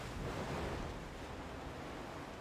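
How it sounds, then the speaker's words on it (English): Ocean surf rolls in the video game EverQuest 2, a constant broad wash of waves at moderate level, steady and uninterrupted with no voices. "Very noisy waves."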